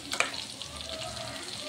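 Stuffed brinjals frying in a pan for curry, a soft continuous sizzle with a faint clink near the start, quiet and close, no talking.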